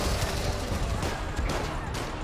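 Laser gunfire in a video game, dense rapid bursts of shots crackling continuously over a loud rumbling game soundscape.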